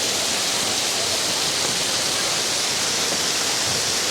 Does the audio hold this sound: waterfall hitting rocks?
yes